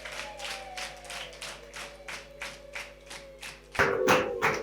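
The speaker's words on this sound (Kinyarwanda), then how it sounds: "Katwongere dukomere Imana amashyi kubw'umushumba wacu." A church congregation claps in a steady, even rhythm, many hands together at moderate volume, with sustained keyboard tones underneath and a louder burst of clapping near the end.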